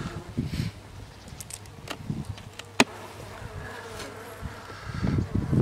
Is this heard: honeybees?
yes